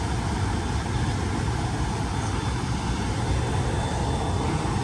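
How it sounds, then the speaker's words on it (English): Electric heater blower fan running steadily, a constant broadband whoosh with a low hum, close and even throughout with no voices. "just a blower"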